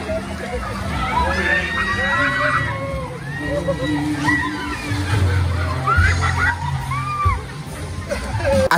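Splashing water from people leaping into a resort pool in Talisay, Batangas, with sloshing and churning beneath a loud, continuous crowd of shouting and chattering voices throughout.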